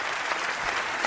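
Audience applause at a live talk event: a steady, dense wash of clapping from many hands that holds evenly for about a second with no voices over it.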